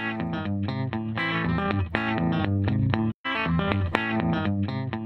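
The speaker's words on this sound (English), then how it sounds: "So if I just add the transient shaper" A distorted, chorused Granite synth with a transient shaper effect plays punchy chords with sharp attacks and clipped decays, briefly dropping out near the middle before resuming.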